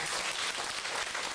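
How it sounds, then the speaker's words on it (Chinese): Dense, continuous applause from a group of students at a lecture session, steady clapping filling the whole moment with no speech over it. "给地方给自己掌声鼓励一下"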